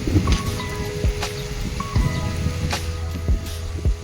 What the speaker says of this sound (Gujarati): બહુ સાજો વરસાદ આવે છે